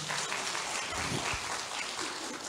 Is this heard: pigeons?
no